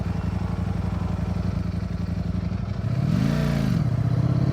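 A Ducati Streetfighter V4S with its V4 engine runs steadily during a ride, a loud, continuous near engine drone that rises in pitch around the three-second mark as it revs up, with no talk.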